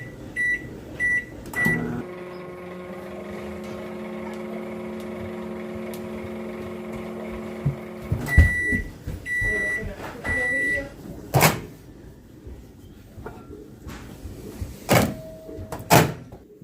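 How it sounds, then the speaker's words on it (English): A kitchen microwave oven hums steadily for several seconds between clicks and beeps of its keypad and door, with light handling noises and sharp door thuds afterward. "So here it goes into the microwave for a few seconds."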